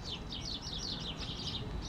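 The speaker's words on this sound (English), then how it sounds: "Lots and lots of birds." A flock of birds in a sunlit hedge keeps up continuous high twittering and chirping, with dense, overlapping calls over a constant low background hum.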